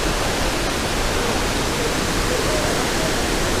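A waterfall in the Atlas Mountains gives off a steady, dense rush of falling water, a continuous broadband roar that holds an even level throughout with no voices.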